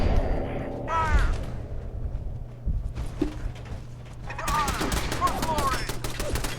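Turrets and guns fire in bursts during a Fallout 4 firefight: a sharp volley early, a lull with a single shot, then a dense rattling fusillade near the end, with voices shouting between.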